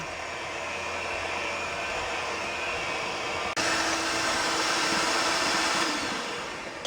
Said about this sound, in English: we're going to beat this really good with a mixer until it's kind of creamy